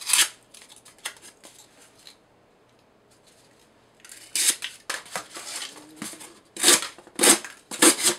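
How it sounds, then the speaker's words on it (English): A knife slicing through cardboard during an edge retention test, with bursts of crisp tearing and scraping strokes, a quiet lull in the middle, then louder, rougher cuts close by. "Cardboard can get really, really weird to cut sometimes."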